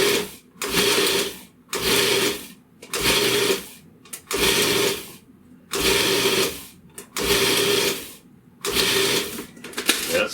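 A food processor pulses butter into a crumble topping in short whirring bursts, about eight of them, each roughly a second long with brief gaps between. The sound is close and moderately loud, with no talking.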